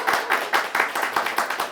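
A gathered group at a church training orientation claps in welcome, giving a rhythmic, fairly unified series of about seven or eight beats at a steady tempo, close and moderately loud.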